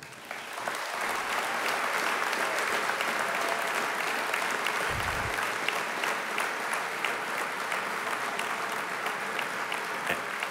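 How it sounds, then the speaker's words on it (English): Sustained audience applause at a Full Sail University Hall of Fame induction ceremony, a steady dense wash of clapping from a large crowd that holds evenly throughout, with no speech over it. "So Jay Noble deserves a huge round of applause."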